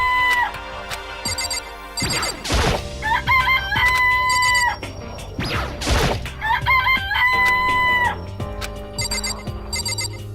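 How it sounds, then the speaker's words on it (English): Synthesized chickens in a chicken coop from Danganronpa Trigger Happy Havoc cluck and squawk in repeated bursts, with two sharp noisy flutters in between, steady and fairly loud with no talking. "chicken coop with chickens in it."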